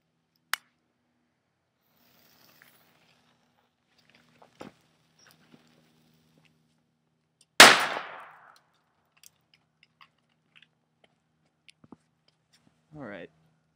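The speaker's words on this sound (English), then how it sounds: "So I still have one more grenade. So let's use it." A homemade airsoft grenade wrapped in duct tape goes off with one sharp, loud bang and a short ringing decay, set among a few faint clicks and taps in an otherwise quiet space.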